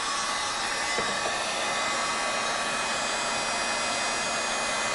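Steady, unbroken whooshing roar of a heat gun shrinking heat shrink tubing over a speaker wire connection on a Klipsch RP-600M, blowing loud and close for the whole stretch without talk.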